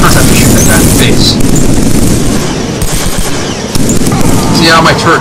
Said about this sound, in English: I first have to shoot that guy in the face